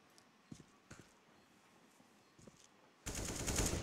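Counter-Strike gunfire starts as a few faint, scattered shots. Then a loud, sustained burst of rapid automatic fire takes over the last second.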